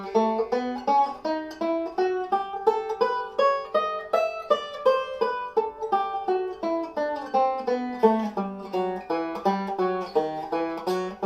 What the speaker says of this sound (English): The two minor scales together would sound like this.